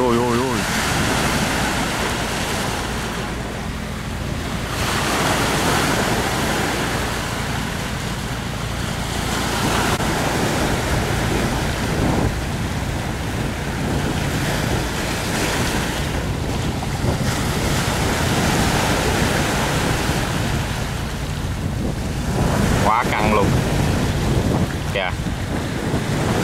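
Big sea waves crash and churn around an iron boat out at sea, with loud, constant wind buffeting the microphone and surging water throughout.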